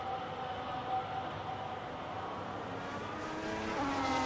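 A McLaren race car laps Silverstone in a racing simulator, its engine a steady, fairly faint high-pitched whine that holds a constant drone with slight shifts in pitch.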